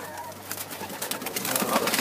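Egyptian swift pigeons cooing in a loft, soft repeated coos over a rustling, noisy background.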